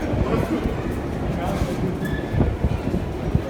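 Metro train in Ukraine running with a steady low rumble and rattle, and faint brief squeals over the top, while people talk nearby.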